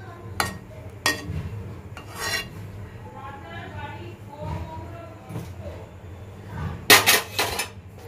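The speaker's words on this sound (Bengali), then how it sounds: "এটাকে আমি হাতা দিয়ে তুলে বের করে দেবো এই সাদা সাদা ফেনাগুলো" A ladle scraping and clinking against a pot while skimming white foam off boiling chana dal in a home kitchen, with a few sharp metallic knocks and soft scraping under someone talking.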